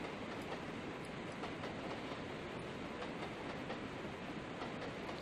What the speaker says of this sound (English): One train pulling in.